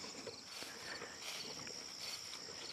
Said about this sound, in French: Regardez les abeilles.